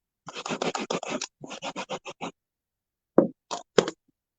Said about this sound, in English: I'm just using a little Stampin' Mist on one side of my Stampin' Scrub, scrubbing it, drying it.